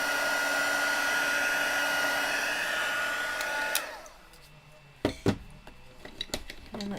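A heat tool blowing a steady loud whir while melting embossing powder on a stamped craft piece, cutting off around four seconds, followed by a few small clinks and taps.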